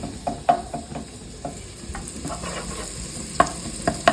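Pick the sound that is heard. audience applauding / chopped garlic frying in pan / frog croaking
chopped garlic frying in pan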